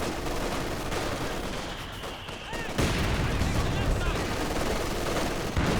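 LMG machine guns fire steadily in a Company of Heroes 2 battle, a dense crackle of gunfire that grows louder near the midpoint, with a commentator talking over it.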